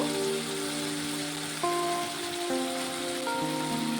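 Fried fish boras go into sizzling spiced oil in a pan, making a continuous even hiss while steady tonal background music plays over it.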